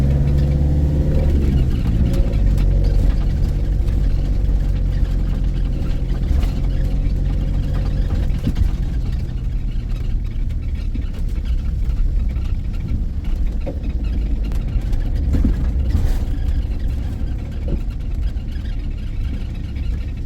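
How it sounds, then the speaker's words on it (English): A car climbs a rough mountain pass trail, its engine a steady low rumble and whir that stays continuous and fairly loud for about twenty seconds. "Is that a fucking car coming up, is it?"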